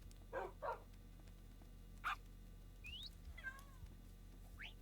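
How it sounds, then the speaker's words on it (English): Quiet video-game cat meows from Minecraft, a few short separate mews and chirps spread over several seconds against a low background hum. "The Minecraft cat noises are so precious."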